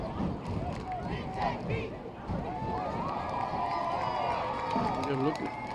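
A crowd in the stands at a homecoming high school football game, LVTI against Georgetown, with a steady roar of cheering and babble swelling in waves, a voice talking over it.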